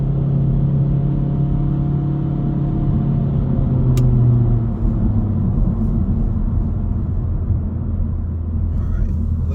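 A 2025 Honda Civic Sport Hatchback accelerates on throttle, its engine a steady low droning rumble heard from inside the cabin, rising slightly then settling, with a brief click partway through.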